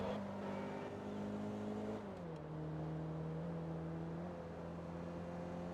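A Mazda Miata engine in the racing game Forza Motorsport 2 hums at a steady pitch, dips briefly as if shifting, then settles into a smooth, continuous drone, heard alone without talk.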